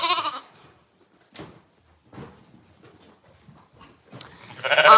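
A sheep at lambing time bleats loudly close by, one call at the start and another at the end, with quieter shuffling and faint sounds in between.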